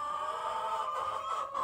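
Light Sussex rooster and hens on a rainy Ontario homestead, with sustained close clucking and crowing-like calls from the flock and no talk.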